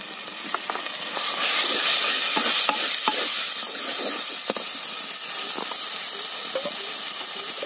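Ground spices sizzle and steam in hot oil for a cauliflower, egg and peas curry, a constant bright frying hiss broken by scattered stirring scrapes and ticks from the pan.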